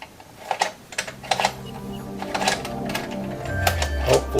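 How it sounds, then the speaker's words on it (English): Metal Allen wrench working hex-head screws loose on a Greenworks Pro 60V power inverter, giving repeated short clicks and scrapes in uneven bursts with a steady hum underneath, close up and fairly quiet. "So I've got my Allen wrench out"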